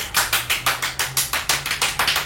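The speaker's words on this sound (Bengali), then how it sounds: "একটা জোরে হাততালি সবাই মিলে" A group claps hard together at a Bengali Rabindra Jayanti club evening, the claps coming in a steady run of about a dozen sharp, close bursts, with no talking over them.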